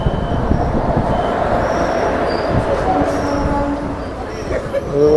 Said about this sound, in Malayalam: പുറത്തൊരു ട്രെയിൻ കിടക്കുന്നുണ്ട് കേട്ടോ,